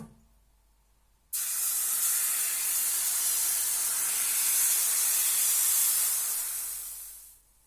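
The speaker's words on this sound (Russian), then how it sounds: "Наливаю тесто на сковороду." After a quiet moment, pancake batter poured into a nonstick frying pan bursts into a loud, bright sizzle, holds steady, then gradually fades.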